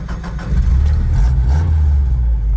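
Toyota TE72 wagon engine starting up and settling into a steady, loud, low rumbling run close by, with no talking.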